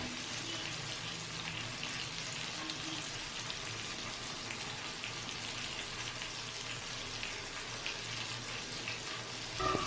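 Mutton sizzles and spatters on a hot tawa as garlic paste mixed with water is brushed on, a steady, dense frying hiss, close and continuous, with a louder crackle near the end.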